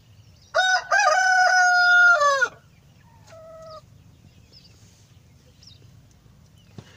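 A rooster crows loudly and close in a chicken coop with laying hens, one long drawn-out call, followed by a shorter, quieter crow or cluck from another bird before the coop goes still.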